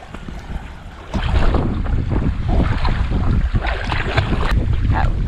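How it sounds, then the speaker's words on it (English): Churning water from a passing boat wake swirls and sloshes close by in shallow water near a stand up paddle board, a steady rough wash that swells louder after the first second, with wind noise over it and no talk. "Boat wake just came through and churned everything up"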